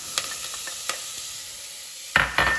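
Onion brunoise and paysanne-cut celery hit a hot pan and set off a soft steady sizzle, with a few sharp clicks of utensils and a louder burst of frying and stirring near the end, with no one speaking.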